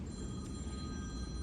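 A cell phone rings among an audience with a faint, steady electronic trill held over the low hum of the room, with no talk.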